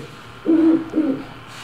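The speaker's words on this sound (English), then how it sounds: "we will hear the owl." A single owl hoots twice, low and mellow, close and alone against quiet background hiss, a sound effect from an escape room puzzle.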